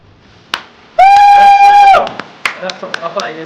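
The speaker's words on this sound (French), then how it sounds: "On l'applaudit." On a live radio stream, a loud held vocal note is followed by a handful of scattered, sharp hand claps, close and uneven.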